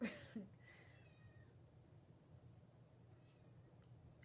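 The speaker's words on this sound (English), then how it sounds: "That's my kitty if you hear her." A short cat meow near the start, then a faint low background hum with no further calls.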